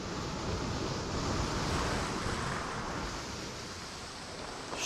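Water waves wash in The Forest video game, a continuous broadband rush like surf that swells slightly and then settles, with no voices.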